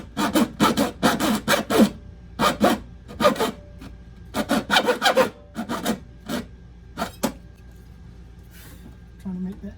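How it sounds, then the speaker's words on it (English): A hacksaw blade cuts through an RV kitchen countertop in quick rasping strokes, short bursts of rapid back-and-forth sawing with brief pauses between them, close and fairly loud. "Trying to make that turn with a hacksaw blade."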